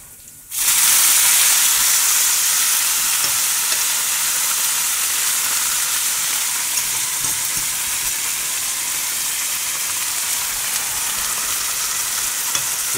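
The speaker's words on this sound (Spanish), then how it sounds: "Y lo tenemos aquí unos 5 minutos friéndose." Spinach frying in a pan, a loud and steady sizzling hiss that starts abruptly and holds unbroken throughout, close up, with no speech.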